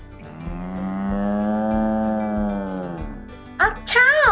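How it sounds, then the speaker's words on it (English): A cow gives one long, loud, close moo lasting about three seconds, followed by a brief burst of a person talking. "A cow."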